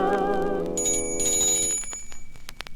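A bright bell rings on a 1965 Scholastic children's nursery record, a sustained metallic tone that decays and gives way to a run of quick, light chimes.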